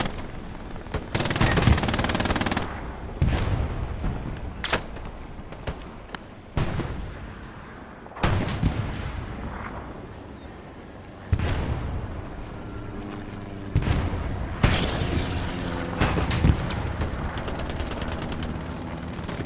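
MG42 machine gun fire in a World War II video game on a public server, loud bursts of rapid automatic shots repeating in several volleys across the clip, with other battlefield explosions mixed in.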